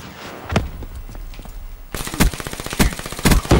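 Gunfire in the video game Call of Duty Black Ops 3: rapid automatic bursts grow louder and denser partway through, with a few separate shots before them, close and dominant.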